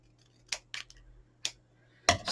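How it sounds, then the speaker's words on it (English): Scissors trimming card stock for a handmade card: a few distinct close snips, spaced apart, ending in a louder scraping cut, in a quiet room without speech. "So we'll chop off what we don't need."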